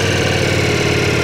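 An old motorcycle idles with a steady, close, rumbling engine note, no voices.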